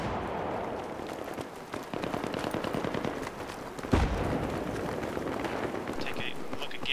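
Rapid rifle gunfire from an AK in the video game Battlefield 3, a dense run of sharp shots with one heavier blast near the middle and no voices.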